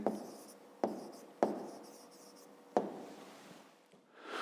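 Pen or pencil writing out a fifth-grade math solution on paper, a steady scratchy scrawl broken by a few sharp taps and pauses, close and quiet with no talking.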